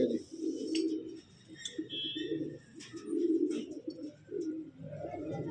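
Pigeons cooing steadily in a loft where malwai Punjabi breeder birds are kept, a continuous low throaty rumble of overlapping coos with a few faint chirps above.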